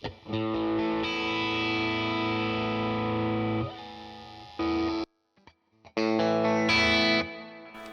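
Sustained electric guitar chords shimmer through a chorus effect, ringing loudly, then breaking off briefly before another wavering chord returns.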